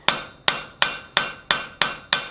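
Hammer blows on hot steel over the anvil while forging a coal shovel: seven sharp, ringing strikes in an even rhythm, close and loud, with no talk.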